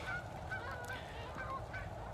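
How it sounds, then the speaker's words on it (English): Distant birds call in repeated honking notes, several times over a steady outdoor background hiss. "I hear the birds, but I don't see them"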